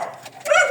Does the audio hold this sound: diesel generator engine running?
no